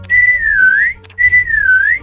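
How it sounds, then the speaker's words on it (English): A forced whistle in the video game Meccha Chameleon, two clear sustained whistled notes that dip and rise again, each about a second long, loud and alone. "First forced whistle incoming"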